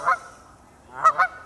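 Geese honk at Balkan Pond outside Spring Green: one loud, close honk, a pause, then two more honks in quick succession from an upset pair, with no talking.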